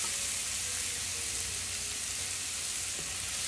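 Chopped chili and onion frying in oil over medium heat for tuna samosa filling, a steady bright sizzle that holds evenly throughout.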